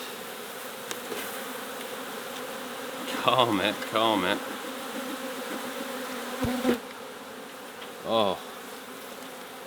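Honeybees buzz thickly around an open summer beehive packed with bees, a dense steady hum close by, while a person talks briefly and softly over it.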